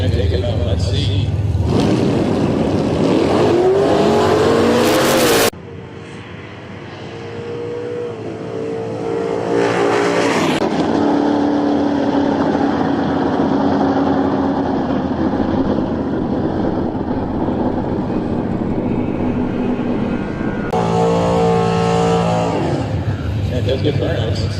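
Heads-up drag racing with cars running 6.50 index times, engines roaring at full throttle down the strip, loud and sustained with abrupt cutoffs and a renewed surge near the end, close to the track.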